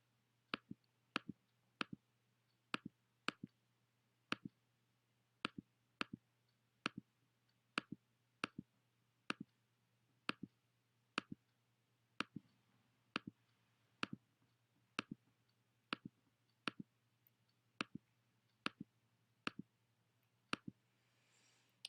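Fingers tap keys on a TI-84 calculator keypad, giving a long series of crisp, close clicks spaced at irregular intervals over a faint low hum, with no talking.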